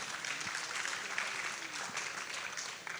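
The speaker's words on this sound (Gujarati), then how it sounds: "મારી પાસે તાળીઓ થઈ જાય એમના માટે." An audience at a mentalism show claps for a volunteer, a faint, distant patter of applause lasting a few seconds, with a voice speaking over it.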